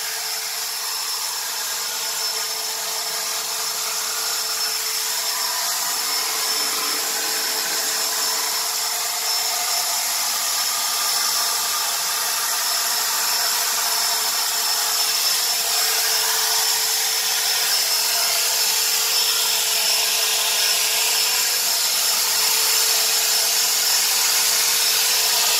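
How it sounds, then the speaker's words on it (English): A leaf blower drives water off a wet car's paint with a loud, steady, high-pitched whooshing whine that runs close and unbroken throughout. "the water will not get blown away with the leaf blower"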